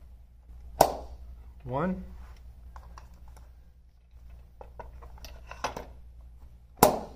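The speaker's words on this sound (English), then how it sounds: "put on the wheels until you hear a click" A wheel snaps onto the axle of a Beach Cart Folding Mini with a sharp plastic click. A second loud click follows several seconds later, with smaller handling rattles between them and a voice counting.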